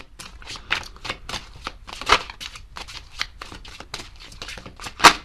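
Tarot cards shuffled by hand in a steady run of crisp riffling bursts, close and fairly loud, with no talking.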